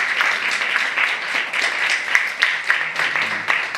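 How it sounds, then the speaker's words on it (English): A crowd applauds steadily, dense clapping filling the whole stretch at a fairly loud level, with no talking over it. "Please give him a huge round of applause."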